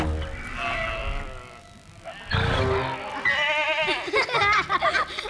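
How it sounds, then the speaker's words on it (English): Sheep in a field bleat repeatedly, several wavering calls overlapping at moderate distance, with a soft voice briefly underneath. "There are a lot of sheep in the field today."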